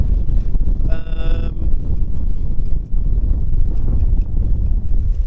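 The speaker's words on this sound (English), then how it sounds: "Wind's definitely picked up there." Steady wind roars across the microphone aboard a sailing boat at sea off the French coast between Le Havre and Cherbourg, a loud continuous buffeting with a brief cow-like moan near the start.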